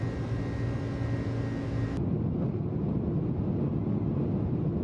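Jet engine drone of an iniBuilds A300 airliner in Microsoft Flight Simulator, a steady loud roar with a whining tone that cuts to a duller, muffled rumble partway through, no talk.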